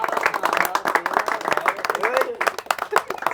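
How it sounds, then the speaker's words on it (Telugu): A group claps for Nagaraj at a Durga Mata mandal gathering in Hari Bowli, producing uneven, close claps that mix with overlapping voices talking throughout. "సో అందరు ఒకసారి నాగరాజ్ భాయ్కి గట్టే క్లాప్స్"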